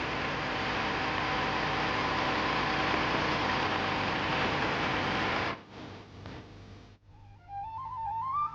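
A tractor-driven sprayer machine's engine drones loud and steady for about five seconds, then cuts off, leaving quieter rumbles and a faint rising whistle-like tone.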